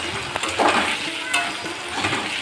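Cumin and green chilli paste sizzles with potato in a pan as a spoon stirs it, producing a dense, close frying crackle with repeated scraping strokes and brief louder bursts.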